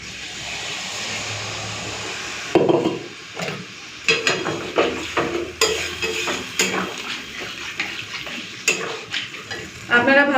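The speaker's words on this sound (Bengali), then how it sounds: "এই যে মশলা ধোয়া জলটা দিয়ে দিলাম" Water splashes into a pan of frying potato and pointed gourd curry, and a steady hiss turns into a louder burst of sizzling and bubbling, followed by repeated clattering stirring strokes close by.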